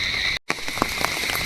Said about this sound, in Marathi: पाऊस मित्रांनो जाम जोरान चालू झाले